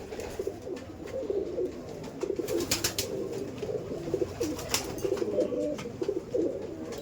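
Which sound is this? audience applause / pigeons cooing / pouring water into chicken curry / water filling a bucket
pigeons cooing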